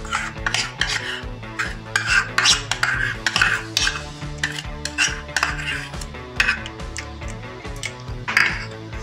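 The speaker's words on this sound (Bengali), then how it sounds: "এটাকে আমি মেখে নিচ্ছি।" Small mola carplet fish are mixed by hand with chili powder, salt and ground mustard paste in a bowl. Close, wet squelching and rubbing come in uneven strokes, with occasional clinks against the dish.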